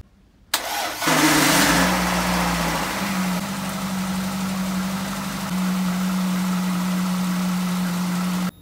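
A VAZ 2115 car engine, under repair after a crash, cranks briefly, catches and settles into a steady, loud idle close by, with a slight rise in pitch partway through and no talking.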